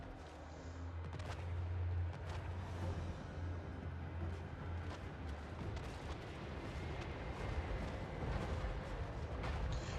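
Dense, continuous booming of cannon and mortar fire in the video game Eternal Empire, with repeated blasts layered over a steady rumble of battle, loud throughout.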